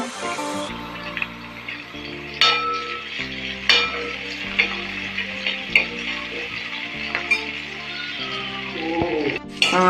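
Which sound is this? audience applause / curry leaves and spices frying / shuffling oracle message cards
curry leaves and spices frying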